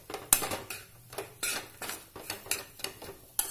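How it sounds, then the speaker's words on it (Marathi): A spatula scrapes and stirs moong dal kachori filling with amchur powder and salt in a pan over a low flame, in steady repeated strokes with light metallic clinks, close and alone. "आणि छान मिक्स करून देऊया."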